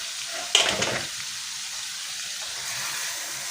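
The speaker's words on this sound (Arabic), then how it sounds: "وهسيب الثوم يتشوح مع الكبده عشان يطلع لي الريحه اللي انا عاوزاها" Garlic and liver sauté in a pan for Alexandrian-style liver, giving a soft, steady sizzle after a brief louder burst of frying noise at the start.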